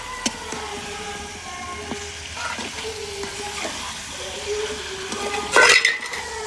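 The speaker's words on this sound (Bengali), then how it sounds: "মাংসটা এখন ভালোভাবে কষাবো।" Country rooster meat stir-fried in a pan with spices and potato, a steady low sizzle with scraping, clinking stirs and a louder burst of frying near the end, no talk.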